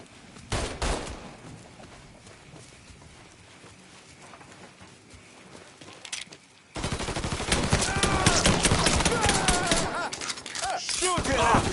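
Rapid gunfire from the video game Mafia 3 Definitive Edition, sparse sharp shots at first, then a loud dense barrage of overlapping bursts with voices shouting over the shooting.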